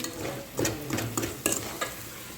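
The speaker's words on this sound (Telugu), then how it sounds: "ఇవన్నీ పచ్చివసన పోయేదాకా మగ్గనివ్వాలి ఉప్పు కారం వేసాం కదా" Tiger prawns with salt and chilli powder stir-frying in a pan for a prawn curry, a soft sizzle under repeated scraping stirs of a spoon, close by and fairly quiet.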